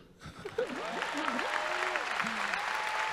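Audience applause at a congress launch, a steady wash of clapping that swells in after a brief quiet start and holds evenly, with faint voices and a whistling tone threading above it.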